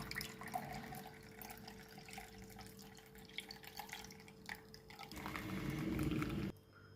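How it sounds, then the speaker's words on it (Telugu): Herbal juice made with tulsi, mint, coriander, lemon and honey is poured through a strainer, giving a soft, continuous trickle that swells louder toward the end and then stops abruptly. "ఆకులు రాకుండా జాలి పెట్టుకొని పోసుకోవాలి."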